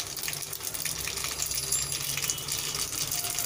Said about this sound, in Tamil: தேங்காயில் நான் கடுகு உளுத்தம் பருப்பை ஆட் பண்ணுறேன். அது பொரியட்டும்.